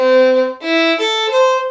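Four sustained bowed violin notes in a row, played across two strings, each clear and ringing, moving between pitches with brief breaks between them.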